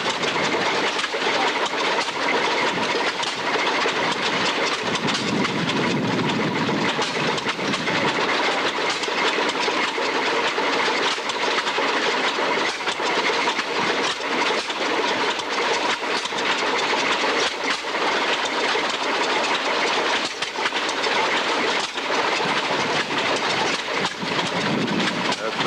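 An antique engine runs steadily at a corn sheller show, its continuous mechanical clatter loud and dense throughout amid crowd noise and some talk.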